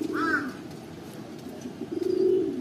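A racer pigeon held in hand gives soft, close coos at the start and again near the end, over a low background murmur.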